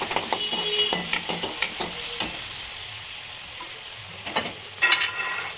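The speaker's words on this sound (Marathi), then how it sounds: "टोमॅटो मी चांगला परतून घेणार" Tomatoes sauté in hot oil after cumin and mustard seeds have crackled, a constant sizzle broken by sharp metal spoon scrapes and clinks against the pan, clustered early and again near the end, close and clear.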